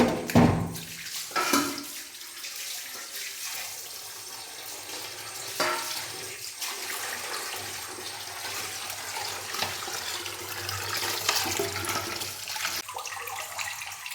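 Sardines are rinsed under running water: a continuous splashing stream with sloshing and shifting as hands work the fish in a basin, heard close and fairly loud.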